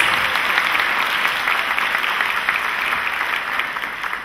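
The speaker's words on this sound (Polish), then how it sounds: "Wielkie brawa dla drugiej wicemistrz." Sustained audience applause for the second runner-up at the Miss Polonia Łódź Voivodeship 2010 beauty pageant results ceremony: a dense, even wash of clapping from a large crowd that fades slightly toward the end.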